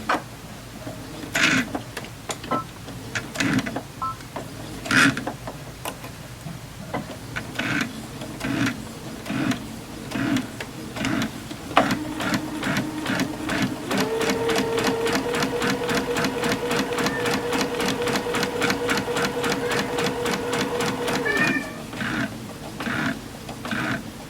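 A sewing machine stitching fabric seams at a short 1.4 mm stitch length, first in short separate bursts, then a long steady run of rapid even needle clicks, close and clear with no talking.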